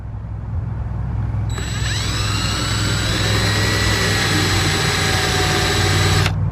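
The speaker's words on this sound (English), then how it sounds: "just chuck that up in your drill and you're ready to go" A power drill fitted with a hole saw spins up and runs steadily for about five seconds with a high whine and harmonic tones, then stops abruptly.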